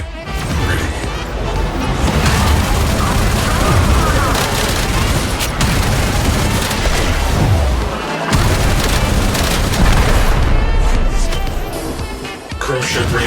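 In Warframe, a cruise ship reactor detonates in loud, continuous booming blasts and crashing rumbles layered with rapid weapon fire, sustained for several seconds.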